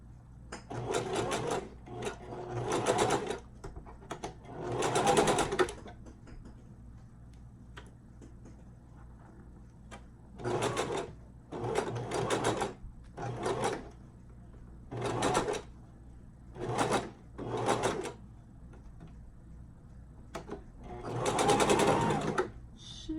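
A sewing machine stitches a closure wig in short bursts of rapid mechanical whirring, about ten runs of a few seconds each separated by quiet pauses, close and clear.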